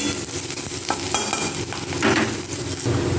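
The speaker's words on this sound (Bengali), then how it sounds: "লঙ্কা পেঁয়াজ রসুনটা ভালো করে ভেজে নিয়ে" Chilli, onion and garlic fry in hot oil with a loud, continuous crackling sizzle, while a spoon stirs and scrapes through them.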